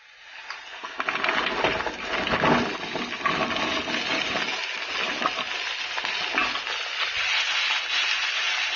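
Chopped cluster beans added to a pan and stirred, with scraping and clinking of a spoon against the pan over a light sizzle, starting faint and building into steady stirring.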